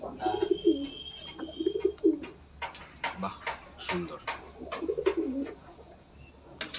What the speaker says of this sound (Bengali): এটা হচ্ছে টিপলার ফুলশিরা নর পায়রা